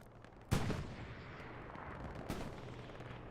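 Gunfire from a strafing run in the World War II shooter Hell Let Loose, with a loud sharp blast followed by a fading rumble and a second softer report about two seconds later, heard alone without talk.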